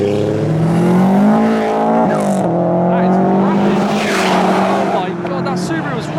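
A tuned Subaru pulls away from the Japfest 2023 car show in the UK, its engine loud and close as it climbs through a steady rising rev over several seconds, with a shift partway and other cars and crowd noise behind.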